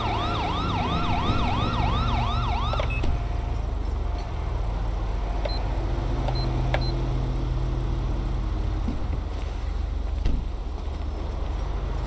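A wailing police siren in the video game GTA V, on a highway patrol car, cycles rapidly at first, then cuts off, leaving a steady engine drone with occasional electronic beeps.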